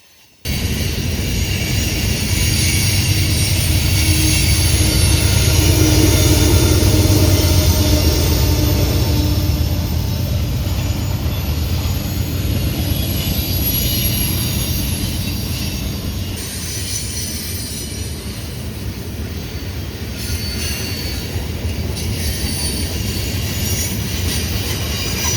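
A CPKC freight train rolls past close by for a long stretch, a loud continuous rumble of wagons with wheel squeal and clatter, easing slightly toward the end.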